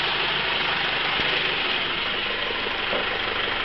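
An engine fitted with a bolt-less HHO generator idles steadily at close range, a constant even rumble with no talking.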